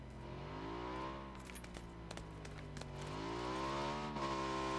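A motorcycle in the battle royale game PUBG approaches, its engine droning steadily and shifting pitch as it draws nearer, with scattered clicks and pings over the continuous hum.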